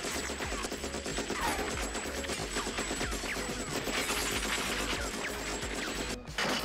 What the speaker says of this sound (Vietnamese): cầm súng lao thẳng vào doanh trại và bắn vào tất cả các loại thiết bị